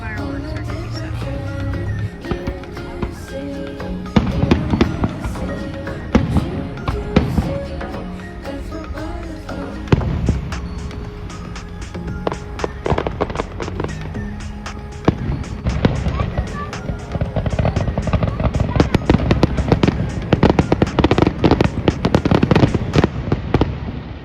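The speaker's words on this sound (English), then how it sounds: "that's where the fireworks are going to be set off" Fourth of July fireworks at Lover's Leap in Hannibal, burst after burst of sharp bangs and crackles, growing denser toward a finale, with people talking nearby.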